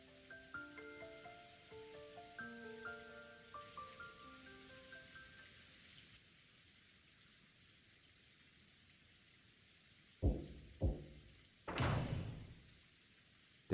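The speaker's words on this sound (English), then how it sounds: "the obnoxious pounding of the rain against the window" Rain drumming steadily against a window in the visual novel Umineko When They Cry, a soft continuous patter under background music, followed by a few sharp thuds near the end.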